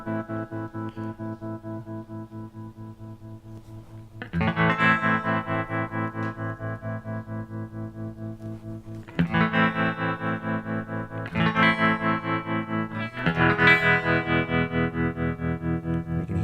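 An electric guitar played through a Boss TR-2 tremolo pedal at maximum depth strums loud, sustained chords in several bursts, its volume pulsing rapidly and evenly throughout.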